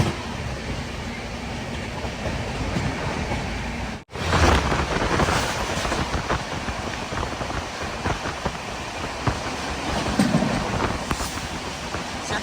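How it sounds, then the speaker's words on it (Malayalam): New Delhi–Amritsar Swarna Shatabdi Express passing close by, a steady loud rush of carriages with heavy wind buffeting after a sharp gust, sustained throughout with no talk. "ഇവിടെ ഇപ്പൊ ഒരു വണ്ടി വരും. ന്യൂഡൽഹി അമൃത്സർ സ്വർണ്ണ ശതാബ്ദി എക്സ്പ്രസ്."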